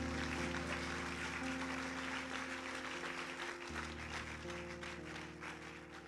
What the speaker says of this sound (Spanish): Un fuerte aplauso a nuestros actores del día de hoy.